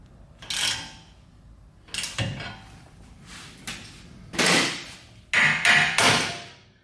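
Several sharp metallic knocks and bangs strike at irregular intervals while working on a Toyota Tundra lower ball joint, close and fairly loud, ending in a few heavier hits as the joint pops loose.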